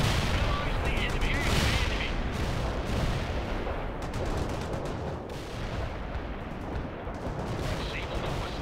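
Continuous heavy gunfire and artillery-like blasts in a war video game, a loud, dense barrage that never lets up, with in-game voices speaking over the fighting.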